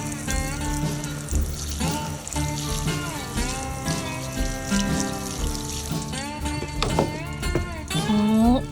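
Running water splashing over beach rocks collected on the Oregon coast to wet them before cutting, a continuous close hiss and trickle with tonal whine running through it.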